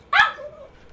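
A single sharp dog bark, close and fairly loud, followed by a short whining tail that fades out, with no other sounds.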